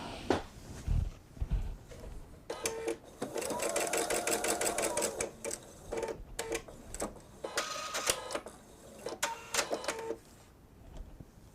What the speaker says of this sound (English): Well, it's sewing now.